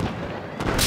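Gunfire and artillery in the video game Battlefield 4, a dense rumble of shots with a sharper blast near the end, loud and continuous over the short span.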